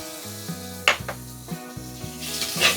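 Raw chicken pieces hitting a hot pan of softened onions and curry leaves, sizzling and frying alone with scattered clanks of a spoon against the pan and a brighter hiss as more meat goes in.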